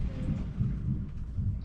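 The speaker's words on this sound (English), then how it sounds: "You got some thunder" Low, rolling thunder over the sea rumbles steadily throughout, deep and continuous, with a faint patter of rain over it and no talking.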